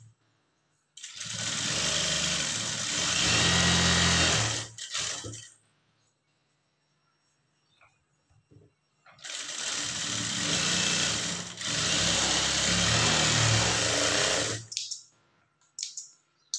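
Two long bursts of a sewing machine stitching a blouse lining, each running steadily for several seconds with a brief stop in the middle, separated by a quiet gap with faint handling clicks.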